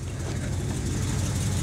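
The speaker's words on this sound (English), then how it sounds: "it's actually got a pretty mild idle" A lifted 1948 Ford F1 pickup with a 351M V8 idles steadily outdoors with a fairly mild cam, a continuous low rumble close by, loud and even.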